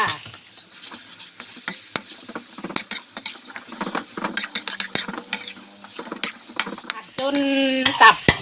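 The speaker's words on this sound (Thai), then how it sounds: "ก่อนอื่นเอาพริกกับกระเทียมที่เราโขลกไว้ลงไปเลยค่ะ จากนั้นนะคะ ทุกคนเอาตับที่เราล้างไว้ลงไปเลยจ้า" Liver fries in a pan with pounded chili and garlic for spicy liver basil, giving a close, busy crackle of sizzling and rapid stirring scrapes, with a brighter, louder burst of frying near the end.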